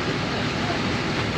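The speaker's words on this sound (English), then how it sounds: "Tractor train sharing this path." Tractor train passing along a path at Robin Hill on the Isle of Wight: a steady, dense rumble with a rolling mechanical drone, close by and continuous.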